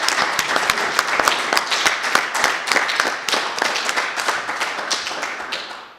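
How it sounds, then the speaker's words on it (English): An audience applauds at a Model UN conference closing ceremony: dense, close clapping with sharp individual claps standing out, steady at first, then gradually fading toward the end. "Please give a hand for Finn, Jessica, Lily, Isabel, and Eli."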